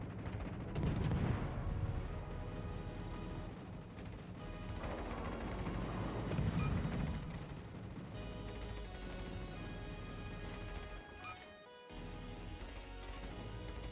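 Video game gunfire aimed at a rocket-firing enemy: dense, loud bursts of shots and booming impacts layered over a thick continuous game soundscape, with a brief dip near the end before the din returns.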